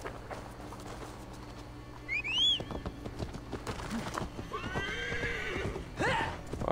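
A horse whinnies loudly in a rising, quavering call in the video game Assassin's Creed Valhalla, with hooves clopping steadily nearby under a low background hum.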